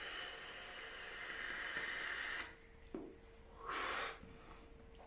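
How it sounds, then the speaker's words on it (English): Close, steady airy hiss of a long inhale drawn through a vape fitted with an Ohm Made coil and filled with menthol juice, a broad rushing draw that stops abruptly, followed by a quieter breathy exhale. "I can inhale that, no problem."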